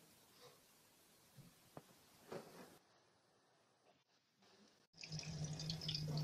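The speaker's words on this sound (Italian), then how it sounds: "Sciacquiamo sotto acqua corrente sia la zucchina che la patata." Tap water runs over a courgette and a potato being rinsed, faint drips and splashes at first, then a louder steady stream from the faucet near the end.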